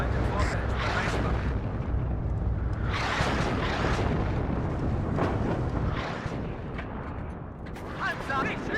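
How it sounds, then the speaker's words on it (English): Heavy artillery shells exploding on target in the WARNO war game, a continuous roar of overlapping booming blasts and rumble, loud and dense throughout, fading slightly near the end. "Okay, nice. Artillery's hitting well there."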